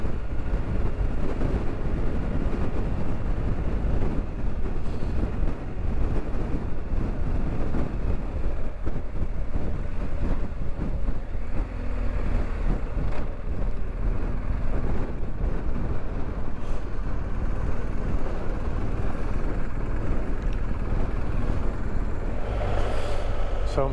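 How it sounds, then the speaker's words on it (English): Strong wind buffets the microphone on an exposed upland road in the Goyt Valley in the rain, a constant loud low rumble mixed with engine drone from a BMW GSA 1250 motorcycle. "God, it's windy up here."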